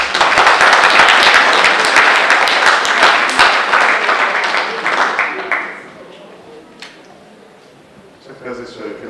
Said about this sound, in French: On va applaudir les cerveaux.